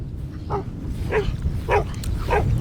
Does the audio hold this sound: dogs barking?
yes